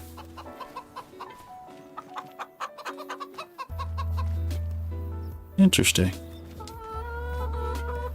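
Chickens in a coop in Farming Simulator, with soft, rapid clucking at first and then a steady farm hum plus a brief louder squawk. Someone speaks briefly over it.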